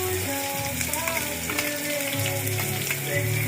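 Sliced onions frying in mustard oil with cumin seeds for a mutton fry, giving a steady, close sizzle with scattered pops over a faint, sustained tonal hum.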